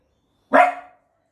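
A single sharp bark comes from a nearby pet dog indoors, a quick loud burst that dies away within half a second with silence around it.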